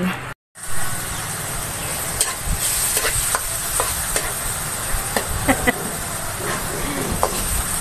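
An egg frying in a pan gives a steady hiss and sizzle, with a few light clicks of a utensil on top, close and constant after a brief silent break at the start.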